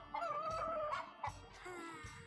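A black rooster in a video game gives a short, faint crowing call with a clucking follow-up, heard quietly over low background music.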